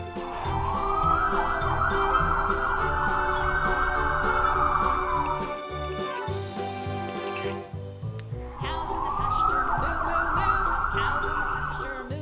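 A toy ambulance from a parking garage playset sounds its electronic siren in two rising-and-falling wails separated by a short pause, close and fairly loud.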